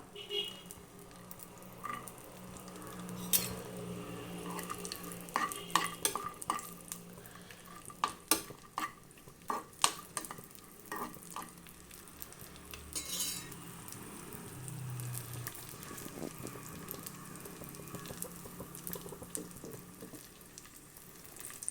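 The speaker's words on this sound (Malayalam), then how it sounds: "അണ്ടിപ്പരിപ്പ് കൊടുത്തിട്ടുണ്ട് നമുക്ക് വറുത്തെടുക്കാം" Cashew nuts frying in a pan with a soft background sizzle, punctuated by frequent sharp clicks and scrapes of a utensil stirring against metal.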